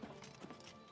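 Horse hooves clip-clop in the video game Oblivion Remastered while the character rides, a quick steady patter of close hoofbeats over a busy game soundscape, with a soft whinny-like tone early on.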